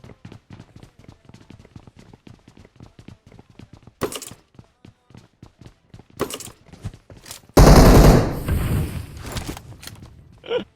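Rapid gunfire from a PUBG Mobile match, a long string of sharp repeated shots followed by a louder, heavier burst of fire near the end, with quieter pauses between.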